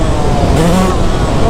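A Yamaha YZ125 two-stroke dirt bike engine running loud and close, a dense buzzing roar that holds steady with a brief rise in pitch midway.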